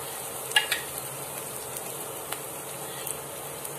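Carrots frying in a pan for carrot kuzhi paniyaram, a low steady sizzle with a few faint clicks and stirring taps, quiet and close.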